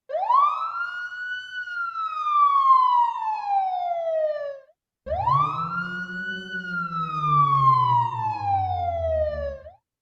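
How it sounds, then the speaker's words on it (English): Two long wailing siren sweeps, each rising then falling slowly; the second carries a deep added bass tone beneath the main wail. "siren sounds with lower frequencies added to the main sound"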